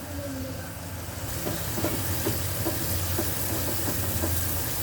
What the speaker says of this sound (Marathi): आता ही कोळंबी दिली मी फोडणीला